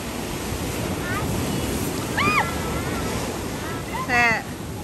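Steady surf at a beach washes in as a constant hiss mixed with wind noise on the microphone, while brief high voices chirp faintly over it.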